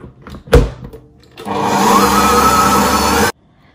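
Electric mixer whipping six chicken eggs for a mouskoutchou sponge cake: a thump and brief rattle as the eggs go in, then a loud, steady motor whir with beaters churning for about two seconds before it cuts off abruptly.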